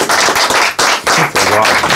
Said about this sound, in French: On peut tous applaudir Seacole.